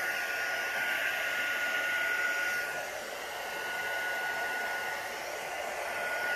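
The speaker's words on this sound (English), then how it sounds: "I'm just drying it as I'm going and spreading it out." A hair dryer blows steadily over resin coasters tinted with alcohol inks and gold, a continuous close airy roar that dips slightly midway and then resumes.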